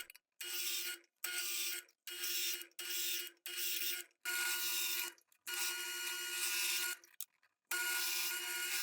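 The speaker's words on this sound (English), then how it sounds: "I can then switch to a larger Forstner bit" A Forstner bit bores out waste wood in a series of loud, steady drilling bursts, each a second or so long with short pauses between, then a few longer continuous runs near the end.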